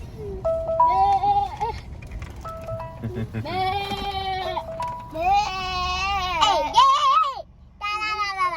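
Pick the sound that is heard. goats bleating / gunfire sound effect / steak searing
goats bleating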